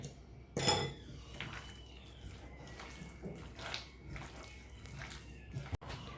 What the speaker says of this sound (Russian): И добавляем весь наш чеснок. И перемешаем.